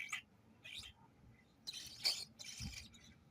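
Birds chirping outdoors during snowfall in Revere, Massachusetts, giving a few faint, short, high tweets spaced irregularly over a quiet background.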